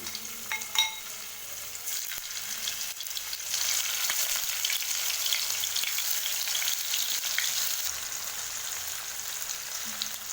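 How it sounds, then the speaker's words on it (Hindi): Paneer pieces placed one by one into two tablespoons of hot oil, a dense, rain-like frying crackle that grows louder partway through and then holds steady, with a few faint clicks at the start. "अब मैं इसमें पनीर के एक एक पीसेस को रखूँगी।"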